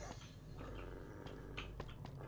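A dog in the video game Fallout New Vegas growls and rumbles low and faint over a steady game background hum, with no talking.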